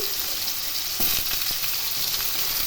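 Diced potatoes frying in hot oil in a pan for a Bengali mixed vegetable dish, a constant close sizzle with a few sharp scraping stirs partway through.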